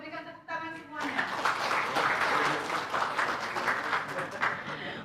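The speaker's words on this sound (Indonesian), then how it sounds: "Kita berikan tepuk tangan semuanya" An audience at the closing ceremony of the Majelis Ulama Indonesia national working meeting breaks into loud, sustained applause after a short spoken countdown, the dense clapping holding steady for several seconds with voices mixed through it.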